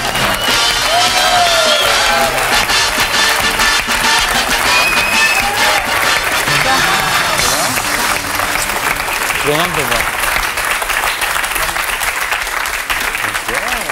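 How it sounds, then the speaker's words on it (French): A TV studio audience applauds steadily as Stéphane Bern arrives on a French talk show, dense clapping throughout with people talking over it. "Stéphane Bern est arrivé, on l'applaudit"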